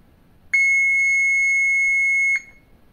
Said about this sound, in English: If the fuse is fine, you hear a beep continuity.